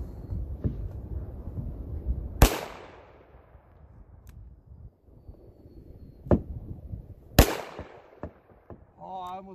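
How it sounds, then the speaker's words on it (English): Snub nose revolver shots fired at a target outdoors, two sharp distant cracks several seconds apart with some fainter knocks and low background noise between. "Okay, I'm gonna shoot, bud."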